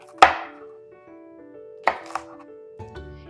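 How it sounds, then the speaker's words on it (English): Knife chopping food into thin strips on a cutting board, a few separate sharp thunks spaced over a couple of seconds, close and alone in an otherwise quiet room. "So go ahead and cut these into thin strips."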